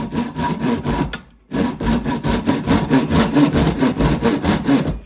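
A Japanese pull saw with 9 teeth per inch rips through wood in quick, rhythmic rasping strokes, loud and close, with a brief pause before the sawing resumes at a steady pace.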